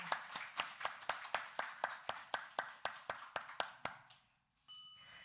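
A church congregation claps rhythmically during a Sunday morning service, sharp and evenly paced, about eighteen claps before stopping, then a brief tone.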